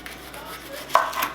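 A knife chops onions on a board, with a couple of quick, close, crisp cuts near the end of a short, quiet stretch.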